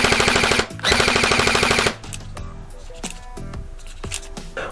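A Zhenduo Kriss Vector V2 gel blaster fires two rapid full-auto bursts close up, each about a second long, followed by scattered clicks and mechanical handling noises.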